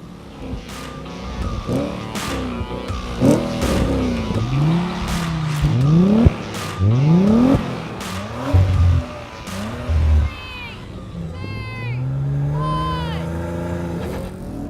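Several generations of Audi RS4, older ones with manual gearboxes against a newer automatic, accelerating hard side by side in a drag race, engines revving up through gear changes, loud and close, with someone talking excitedly over them.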